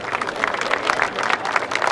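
Golf spectators at the Masters Tournament applaud after an approach shot, a steady patter of many hands clapping at moderate distance throughout, with no clear talk.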